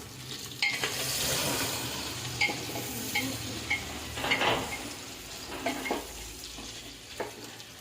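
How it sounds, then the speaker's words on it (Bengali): Chopped onions and dried red chillies fry in hot oil in a pan, giving a steady soft sizzle broken by repeated scrapes and clinks of a spatula stirring, close and fairly quiet. "এবারে পেঁয়াজ আর পেঁয়াজের মধ্যে দেওয়া হচ্ছে শুকনো লঙ্কা"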